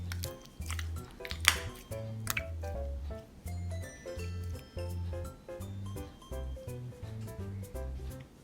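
Soft wet squishing and sticky popping sounds repeat in an irregular rhythm, close and faint, as cornstarch slime is pressed and stirred into a swirl.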